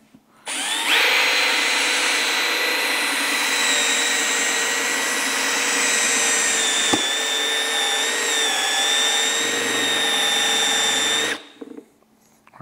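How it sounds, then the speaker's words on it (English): A power drill with a step bit whines steadily for about ten seconds as it cuts a hole through a Harley Davidson speaker mounting area from outside, loud and close, with no talking. "from the outside, I'm gonna drill a hole inward."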